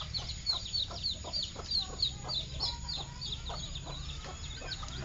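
Frizzle hen (ayam bulu terbalik) clucking in a steady series of short, close calls, repeated roughly every half second over a low background rumble.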